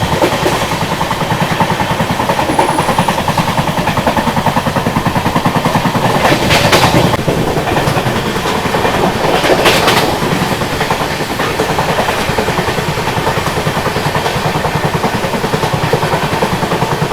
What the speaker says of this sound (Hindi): देखो भाई साहब पैरेलल चल रहा है अभी अपनी ट्रेन का मुंबई हावड़ा मेल के साथ।